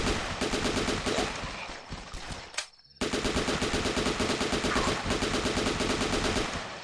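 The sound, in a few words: machine gun fire in a video game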